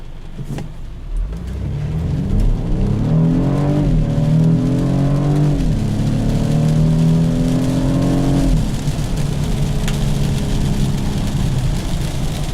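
A 2015 BMW 428i with paddle shifters accelerates hard from 0 to 60, its engine note climbing repeatedly and dropping at each of several quick gear changes, loud and close from inside the cabin.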